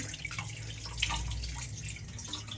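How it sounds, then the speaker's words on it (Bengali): Running tap water splashing while raw meat is washed in a sink, a soft, steady flow with occasional drips and no voices. "এখন মাংস ধোয়া হচ্ছে"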